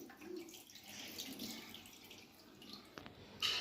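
Small cut mutton pieces are rinsed in water for a Rayalaseema-style curry, with continuous sloshing and splashing, soft drips and a sharper clatter near the end, fairly close.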